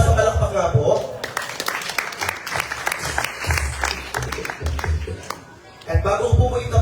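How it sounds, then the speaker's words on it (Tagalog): Audience applause at an evening campaign caucus, a burst of clapping that rises over a speaker's amplified voice, fades into a brief lull, then talk resumes. "Sa malakas ang palakpak nga po"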